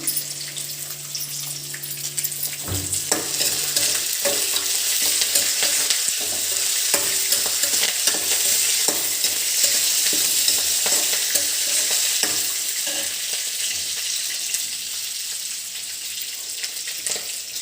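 Peanuts and curry leaves frying in a little oil for kothimeera pachadi, a bright continuous sizzle with a sudden crackling burst as leaves drop in, then stirring scrapes and clicks up close.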